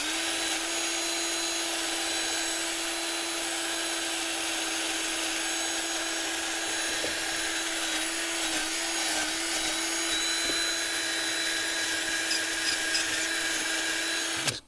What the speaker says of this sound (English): I used a soft wire on a drill